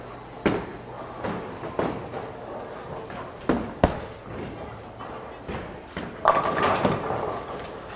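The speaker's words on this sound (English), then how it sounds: "go 5 straight shots, and I'm gonna move 5 left after every shot here" A Storm Hy-Road Gold bowling ball is thrown down the lanes, giving several separate thuds and impacts with rolling noise between them in a noisy bowling alley.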